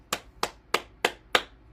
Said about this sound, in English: And then we'll clap our hands.